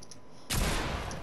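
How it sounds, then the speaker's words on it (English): Gunfire in Fortnite: after a quiet moment a loud volley of shots breaks out abruptly and continues as a dense, sustained burst until the end. "Alright, he shot me."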